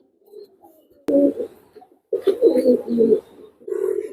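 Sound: pigeon cooing

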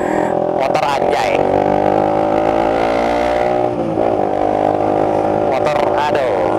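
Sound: sport motorcycle engine

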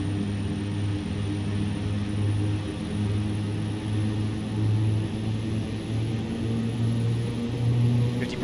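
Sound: Piper Cheyenne II engine during takeoff in X-Plane 11 video game

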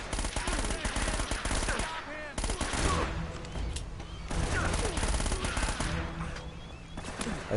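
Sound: gunfire in the Uncharted: Drake's Fortune video game

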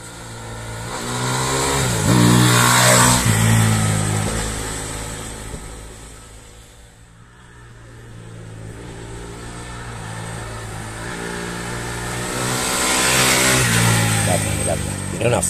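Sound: Fantic Caballero Rally 500 motorcycle engine accelerating

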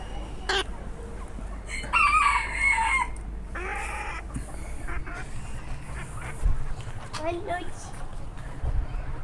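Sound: chickens and rooster clucking and crowing

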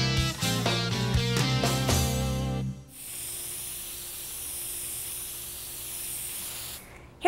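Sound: spray paint can spraying

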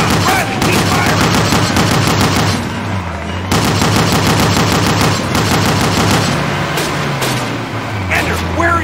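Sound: gunfire in Call of Duty video game

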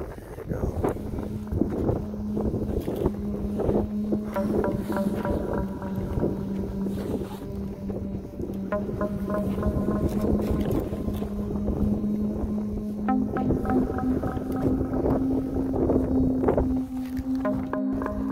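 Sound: strong wind blowing outdoors

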